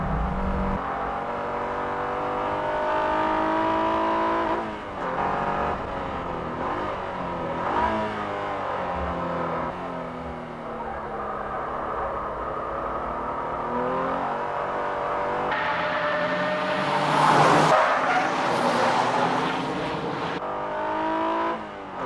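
A Nissan Z sports car accelerating hard around a race track, its engine revving up and down through repeated gear changes, rising to a louder, rougher peak near the end.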